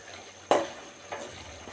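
Mutton curry being stirred in a pan, with a sharp scrape and sizzle at the start and a softer second stir a moment later, close and fairly quiet.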